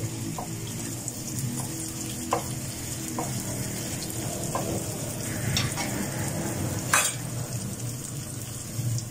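Stuffed tinda cook in a pan with a continuous close sizzle and bubbling, broken by a few faint clinks and scraping stirs, with no one talking.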